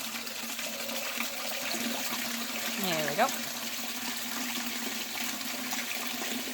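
Water draining steadily through a siphon, a continuous rushing flow with a brief gurgle partway through, while a person speaks briefly.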